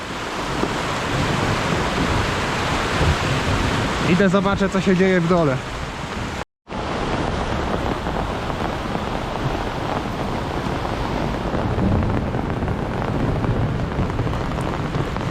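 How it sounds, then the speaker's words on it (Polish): Loud, steady rush of a swollen river after a downpour in Krynica-Zdrój, filling the whole clip, with a person speaking briefly early on and a short dropout midway. "Rzeka wezbrała i to znacznie."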